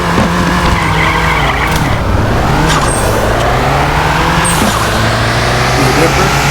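A car engine roars steadily on a mile test run in the Nitro Nation racing game. It builds through gear changes with rising and falling pitch, and a voice talks over it.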